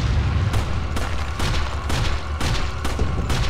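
Fire grenade explosions in Resident Evil 4, a loud rapid string of heavy booming blasts going off about twice a second, close and continuous with no talking.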